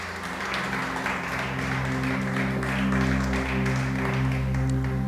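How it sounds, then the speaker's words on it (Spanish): A church congregation applauds at a worship service, a dense even wash of many hands sustained for several seconds over a steady musical hum. "Dale ese aplauso grande a nuestro Rey."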